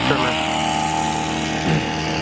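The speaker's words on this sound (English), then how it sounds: "He's doing some of the detail work with the" A string trimmer runs at a steady, buzzing engine whine while cutting detail work along wooden flower bed timbers. It stays fairly close and continuous, with a brief surge near the end, and people talk over it.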